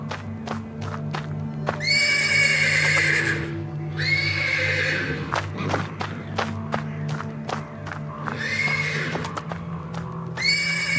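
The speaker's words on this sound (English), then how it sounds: "The persistent neighing of a horse can be heard from the stables." A horse in the stables of the video game Black Book gives repeated loud whinnying neighs, three main bursts spread over several seconds, mixed with hoof thuds and clip-clop over a low ambient drone.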